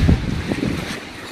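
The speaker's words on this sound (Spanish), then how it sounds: "Perdona por el ruido, pero es que hace un vendaval ahora mismo." Strong gale buffeting an outdoor microphone during a prebonsai transplant, a loud continuous roar of wind noise with low gusty rumbles throughout.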